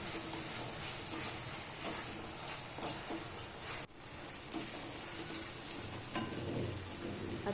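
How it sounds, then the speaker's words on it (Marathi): Chopped capsicum fries in a pan for a paneer lababdar, giving a soft, steady sizzle with occasional stirring clinks and a brief break midway, close and fairly quiet with no voices. "त्यामुळे 1 मिनिट आपल्याला शिमला मिरच याच्यामध्ये फ्राय करून घ्यायची आहे"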